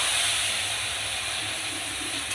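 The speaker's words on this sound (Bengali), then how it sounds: "এবার জল দিয়ে দেবো" Water hits a hot pan of fried Maggi noodles with egg and onion, producing a loud, continuous steamy hiss that holds steady throughout.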